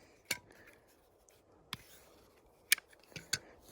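Sparse clicks and light metallic snaps as Bahco Laplander and Silky F180 folding saws are folded shut, a handful of sharp, close taps over a quiet background.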